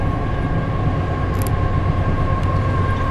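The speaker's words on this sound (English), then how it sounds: "Here's a train." A train rumbles past in a continuous loud roar, with a steady low drone and a faint high tone riding on top, no voices.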